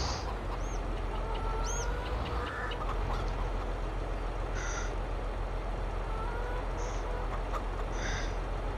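Chickens cluck and squawk in scattered bursts over a steady engine drone in the farming game Farming Simulator 22, with calls spread across the clip and no speech.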